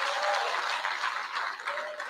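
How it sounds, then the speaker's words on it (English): Audience clapping at a youth bank launch event, a dense, steady patter of many hands at moderate distance, continuing evenly throughout without talk. "you've got to clap your hands."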